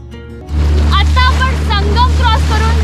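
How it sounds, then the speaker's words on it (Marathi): Steady low engine drone of a boat rocking on the open sea off Malvan, with rushing water and wind, loud and close, while someone talks over it. "समुद्राच्या मध्ये पोहोचलेलो आहोत ह्या ठिकाणी बोट भरपूर हलते आहे"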